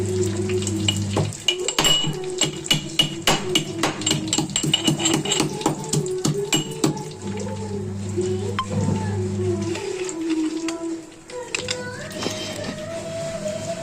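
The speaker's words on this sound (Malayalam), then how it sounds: "ഇഞ്ചി വെളുത്തുള്ളി നല്ല രീതിയിൽ ഒന്ന് ചതച്ചെടുക്കാം" Ginger and garlic crushed in a kitchen: rapid, sharp pounding and clattering strikes, steady and close, with a sizzling pan and occasional voices in the background.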